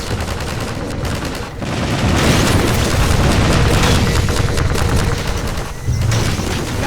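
Dense, continuous gunfire and booming explosions in the Half-Life 2 Episode Two battle against Hunters, loud and sustained throughout with rapid bursts layered over heavy blasts.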